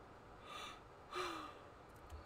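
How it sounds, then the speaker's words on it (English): A person yawning quietly, with a faint breathy intake early on, then a longer, slightly voiced exhale with a sliding tone, over a low hum. "Of course I'm yawning."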